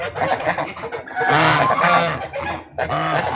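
Pet geese honking and calling loudly in close, overlapping bursts, with a brief pause before the calls resume.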